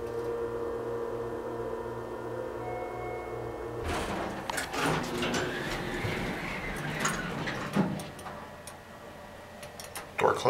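A Schindler MT hydraulic elevator in a Marriott Residence Inn building hums steadily, then its door slides shut with a soft rumble and a few clunks and ticks nearby, while a voice speaks quietly in the background.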